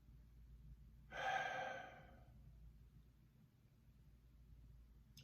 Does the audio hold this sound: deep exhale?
yes